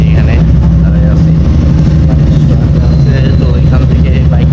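A motorcycle engine has just been started and runs at a steady, loud, low idle rumble close by, with a voice talking over it.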